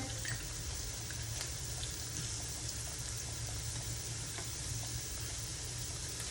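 Shrimp sizzling steadily in olive oil in a pan, a continuous close crackle that holds even throughout, with no talking.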